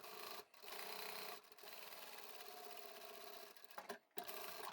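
A sewing machine backstitches a seam on a drawstring bag, its fast, steady mechanical whirr running close and continuous with a few brief pauses and restarts.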